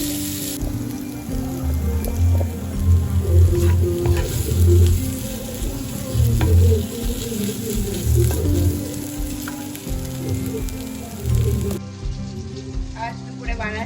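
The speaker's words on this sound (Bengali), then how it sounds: "একটু দিয়েছি গোটা জিরে, কালো জিরে, গোটা সরিষা, ভাজা করবো।" Whole cumin, nigella and mustard seeds fry in hot oil in a pan, a close, continuous sizzle with crackling pops and occasional stirring scrapes, running steadily before fading near the end.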